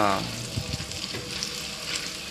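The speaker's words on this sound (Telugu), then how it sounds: "కొంచెం ఫ్రై అయ్యేలాగా ఇలా తిప్పుకుంటే బాగుంటుంది మనకి." Broad beans and tomato frying in a pan as they are stirred, a steady close sizzle with soft scraping stir strokes throughout.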